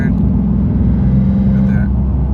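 A motorcycle fitted with a Z1 clutch kit idles and revs near 2,700 rpm, giving a loud, close, steady engine drone with a slight raspy edge.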